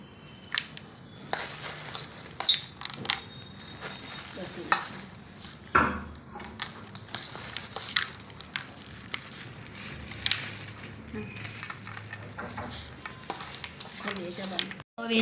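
Peanuts being stirred into dabeli masala in a pan, giving a steady scrape and shuffle of a spoon with light sizzling and irregular soft clatter that runs throughout, and no speech.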